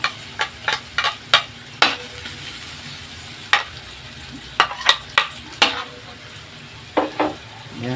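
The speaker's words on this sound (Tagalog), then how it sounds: "Isunod natin ang ating bawang mga idol, mga kapobre." Garlic and onion sauté in a pan for lomi, a steady soft sizzle broken by repeated sharp scrapes and clacks of a utensil stirring against the pan, close and fairly loud.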